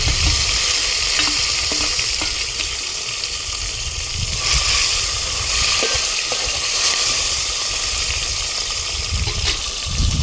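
Tomatoes hit hot tempering oil with green chillies and sizzle loudly and continuously, with occasional scrapes and clinks of a spoon stirring the pan, close up and with no voices.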